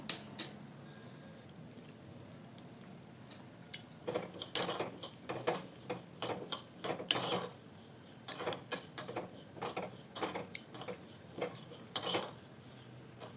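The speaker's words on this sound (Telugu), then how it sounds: "ఏగుతున్నంతసేపు కూడా ఆవాలని చక్కగా ఇలా తిప్పుతూ వేయించుకోవాలన్నమాట" Mustard seeds being stirred as they dry-roast in a pan, giving irregular metallic scrapes and clicks of a spoon against the pan that grow busier after the first few seconds, with a faint steady background hiss and no talking.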